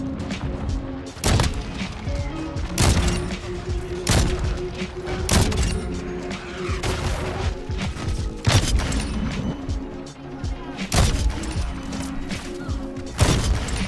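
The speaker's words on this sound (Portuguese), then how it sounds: "esse sniper é muito satisfatório" Sniper rifle shots ring out in a video game as sharp, loud cracks at irregular intervals over busy background game noise and rumble.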